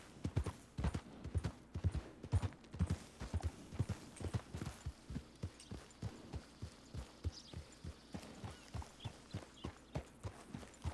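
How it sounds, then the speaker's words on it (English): Steady clip-clop of horse hooves in a video game, a regular walking rhythm of hollow knocks, fairly faint and continuing throughout. "Yay, there's a horse here."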